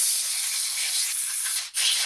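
Steady, loud hiss of compressed air blowing dirt off a carburetor pulled from a Husqvarna 572XP chainsaw, a continuous close blast with a brief break near the end before it resumes.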